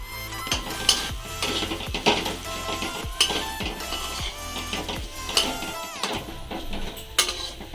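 Spiced egg chop filling being stirred in a pan, with repeated scraping and clinking of a utensil against the metal over a soft sizzle, steady and close with no talking.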